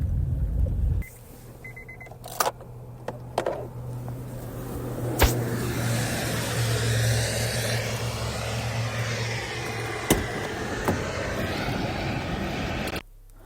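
A car drives on with a steady low engine rumble and a constant road drone. A few sharp clicks and knocks sound inside the cabin, and the car noise drops abruptly at the start and again at the end.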